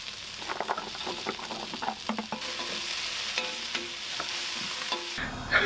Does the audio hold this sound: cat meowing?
no